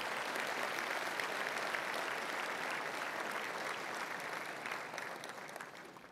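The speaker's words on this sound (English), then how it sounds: "That deserves a round of applause." Sustained audience applause at an awards ceremony, a dense, steady wash of clapping from a large crowd that holds for several seconds and then begins to fade.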